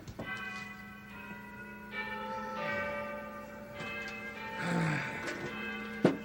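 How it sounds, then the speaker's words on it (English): A doorbell fitted to a trash can on a Sesame Street set sounds a sustained chiming melody like church bells, with ringing tones that shift in pitch over several seconds and a sharp clang near the end. "you gotta listen to Oscar's doorbell"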